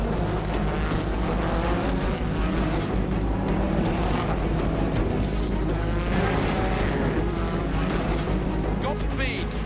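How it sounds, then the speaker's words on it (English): Race cars in a Motorclub series race sweep through the first turn, their engines blending into a dense, continuous roar that stays loud and steady throughout. "As they go through turn 1, Tanner Foust is looking see if he can go around the outside"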